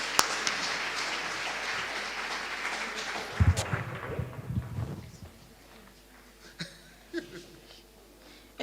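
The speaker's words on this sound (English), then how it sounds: "Let us clap hands for her." A small audience at a community hall roadshow gives brief applause that tapers off quickly, followed by scattered thumps and a few isolated claps in a quieter room.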